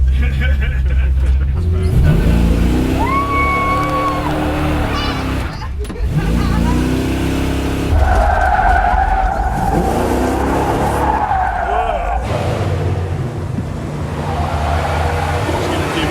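A heavy car with a huge engine accelerates hard and skids, with loud engine roar, squealing tires and brief pauses, while people talk and exclaim over it.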